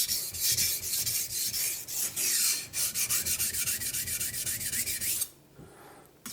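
A kitchen knife being sharpened on a Naniwa whetstone to fix chipped edges, giving loud, steady rhythmic rasping strokes back and forth that stop abruptly near the end.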